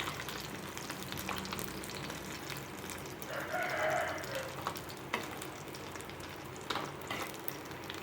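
Chicken 65 deep frying in hot oil gives a soft, continuous sizzle and bubbling, faint and steady throughout, with occasional light stirring clinks.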